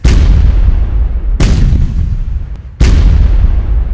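Three loud, heavy booms of naval artillery fire from the gunboat HNLMS Johan Maurits van Nassau at even intervals, each blast rolling off into a long decaying rumble.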